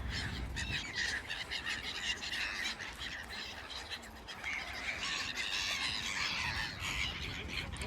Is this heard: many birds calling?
yes